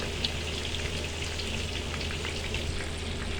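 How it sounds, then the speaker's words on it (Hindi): Green chillies frying in a tadka for maash chana dal give a steady, even sizzle with fine crackles throughout, moderately close and uninterrupted, with no talking. "सब्ज़ मिर्च तड़के में डालने से बड़ी ही प्यारी खुशबू होती है और बहुत ही करारी बन जाती है दाल माश चना"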